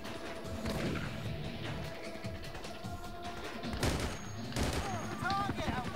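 Gunfire and explosions in the video game Battlefield 2, a dense burst of shots and crashes with sharp impacts recurring throughout at moderate level, mixed with faint voices.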